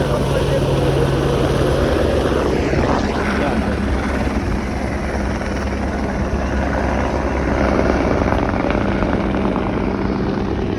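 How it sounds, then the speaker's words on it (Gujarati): Steady, loud helicopter rotor and engine drone throughout at a helipad on the Kedarnath route, a dense continuous roar with a low thumping hum underneath. "હેલિકોપ્ટર"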